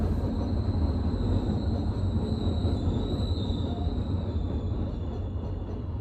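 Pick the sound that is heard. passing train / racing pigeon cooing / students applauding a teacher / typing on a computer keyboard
passing train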